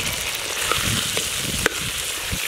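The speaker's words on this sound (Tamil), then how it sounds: "பாருங்க தக்காளி நல்லா எண்ணெயிலே நல்லா வதங்கிடுச்சு" Tomatoes fry in oil in a pan for a drumstick curry, giving a loud, continuous, close sizzle with a couple of faint clinks and no voices.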